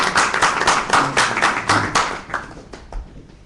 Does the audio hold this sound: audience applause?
yes